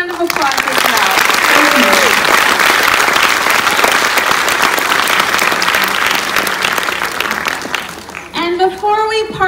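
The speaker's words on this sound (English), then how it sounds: "let's give them a huge round of applause as well." Sustained, loud crowd applause at a school Christmas concert, dense clapping that fills most of the stretch and fades near the end as a voice begins speaking over it.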